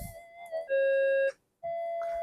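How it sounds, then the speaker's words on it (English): A GPX-5000 metal detector chatters through its frequency tuning, giving a short run of clear electronic tones that shift in pitch, with a brief silent gap before a final steady tone. "So you can hear it chatter away in the background and go through its frequencies."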